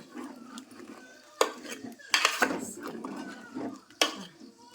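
Brinjal curry being stirred in a pot after water is added: a spoon knocks and scrapes against the vessel in a few sharp, close hits between quieter scraping.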